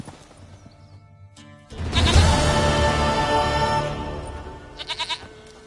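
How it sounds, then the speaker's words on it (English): A loud, wavering goat bleat cuts in after a quiet moment, held for about two seconds, followed by a few short, rapid bleats. "Goat of mine, dearest, sweetest goat."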